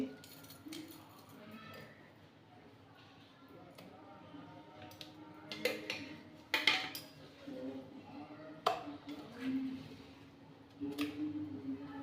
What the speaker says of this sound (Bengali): আমি বাটনাটা একটা বাটিতে ভালো করে ঢেলে নিচ্ছি